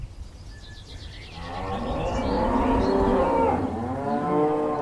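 Cows lowing on a mountainside near a chapel in Catalan country, several overlapping deep moos swelling and fading over steady outdoor rumble, fairly close and loud, with no talk.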